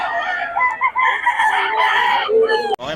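Sweater-breed gamefowl roosters held for sale in Bocaue crow and cluck nearby, with overlapping loud crows repeating throughout, then a brief sharp knock near the end.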